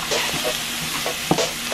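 Fresh rosemary and thyme being stirred into a simmering pasta sauce on the stove, with soft scraping stir strokes over a steady low sizzle, close and moderately loud, no talking.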